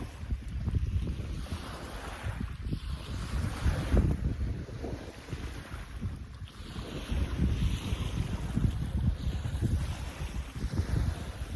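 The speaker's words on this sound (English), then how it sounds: "I hope you can hear me over these waves." Ocean waves surging and breaking near the shore, a loud, continuous roar with rolling swells, heavy wind buffeting the microphone, no talk.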